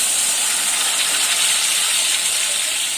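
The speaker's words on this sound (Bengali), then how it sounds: "এখন আমি জল দিচ্ছি।" Water pours steadily into a pan of mangoes seasoned with salt and sugar for a homemade spice-free pickle, a continuous close hiss and splash with no talking.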